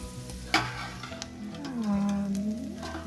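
Walnuts and other dry fruits frying in a pan for Eid sheer khurma, a soft sizzle with occasional stirring scrapes and one sharp knock against the pan, close and fairly quiet.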